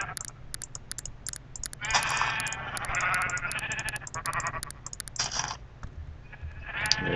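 Sheep bleat repeatedly in a video game, several distinct bleats spread across the moment, mixed with quick mouse or keyboard clicks and light tapping.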